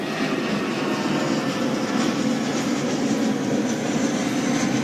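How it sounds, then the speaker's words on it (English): A steady, broad roar of a passing aircraft fills the whole stretch, constant and fairly loud, with no voices. "There's a plane going above my head"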